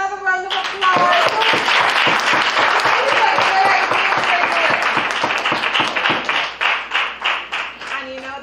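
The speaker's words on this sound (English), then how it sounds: "Give the mayor another round of applause" Audience at a real estate school graduation ceremony in Guyana giving the mayor a round of applause, a loud dense burst of many hands clapping that runs for several seconds and then tapers off into scattered claps.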